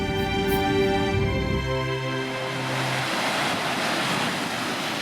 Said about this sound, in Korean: 거친 바람과 험한 파도가 일상인 제주바다